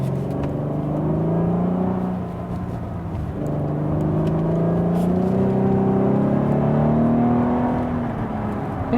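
A Cadillac CT6 luxury sedan with a 3-liter twin-turbo V6 accelerates from inside the cabin, its engine note rising smoothly in pitch through two gears with a short dip at the shift, steady and fairly loud.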